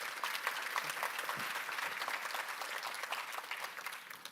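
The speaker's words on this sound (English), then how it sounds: "please give them a round of applause before they share their ideas" Steady, fairly quiet applause from a conference audience at a Hong Kong cultural forum panel, continuous clapping that holds evenly and eases slightly at the close.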